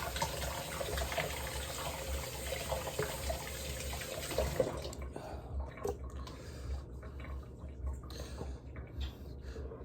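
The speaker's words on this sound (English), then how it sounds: "Get a few raspberries, get a few blackberries. Wash them off." Raspberries and blackberries rinsed under a running kitchen faucet, a steady close splash of water that thins out into softer drips and trickles partway through.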